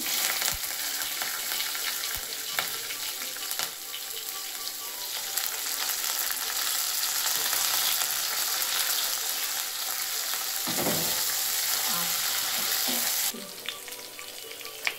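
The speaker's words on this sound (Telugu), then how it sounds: "ఇప్పుడు మనం ఈ జీలకర్ర ఆవాలలో పచ్చిమిర్చి, కరివేపాకు వేసుకుందాము." Green chillies and curry leaves fry in hot oil with cumin and mustard seeds, a loud, continuous close-up sizzle that swells slightly midway and drops back near the end.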